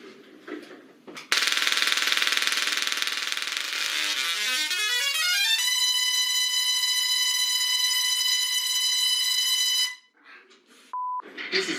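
A Tesla coil sounds a single loud electronic tone that sweeps upward, then holds a steady, buzzy pitch for several seconds before cutting off. Brief noise comes before and after, with a short beep near the end.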